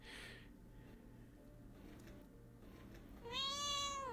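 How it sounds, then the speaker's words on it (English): A cat meows once, loud and drawn out near the end, after a low, quiet background hum. "I found the meowing cat."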